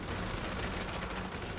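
Rapid overlapping gunfire from the bunker shooting range in GTA 5 Online, a dense continuous burst of shots heard at moderate distance with no talking.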